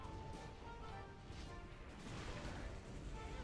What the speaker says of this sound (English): Oh, it's a big explosion of ghouls.